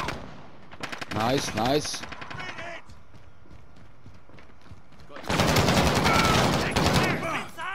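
Gunfire in an online video game shooter, brief bursts of automatic fire alongside a player's voice, with a heavier rattling volley of shots later, sharp and close.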